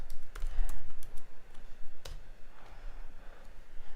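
Quiet, irregular clicking of keys on a computer keyboard, a few brisk bursts of typing close by with no talking.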